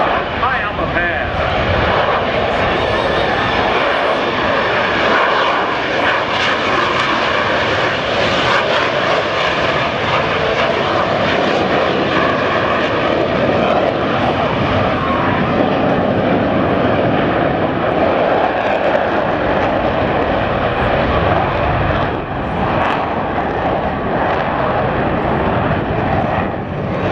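A Blue Angels F/A-18 Hornet in clean configuration makes a slow high-alpha pass at an airshow, its jet engines roaring loud and sustained for the whole stretch, with an announcer talking over the noise.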